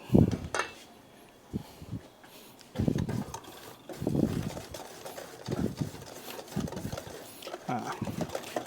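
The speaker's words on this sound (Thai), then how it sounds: "นี้เราก็จะผสมนะครับ" Coconut taro cake batter is mixed in a bowl, with intermittent close scraping and knocking of a utensil against the bowl in short bursts, while someone talks throughout.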